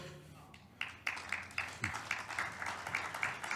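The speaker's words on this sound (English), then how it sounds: "Big round of applause." Applause from a keynote audience at The Kings Summit business conference, starting quietly and swelling into steady clapping that continues to the end, with some background voices underneath.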